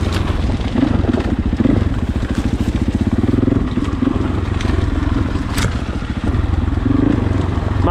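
Husqvarna FE 501 four-stroke enduro motorcycle, 2020 model, engine braking on an off-road downhill, a low, throbbing exhaust burble with rough pulsing, mixed with crackle and scraping from the terrain, loud and close throughout.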